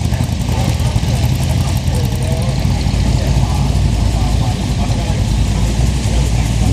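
A blue Holden VH Commodore Vacationer drives past at a car meet, its engine a loud, steady low rumble that stays dense throughout, with voices mixed in.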